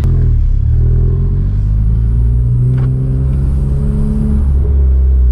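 A Honda Civic Type R with a big turbo idles and runs close by, a loud, steady low engine rumble and drone with a slight rise in revs, with no talking.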